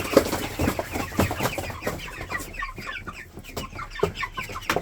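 Several Cobb 500 broiler chickens cluck and murmur continuously nearby, a busy overlapping flock chatter at moderate volume.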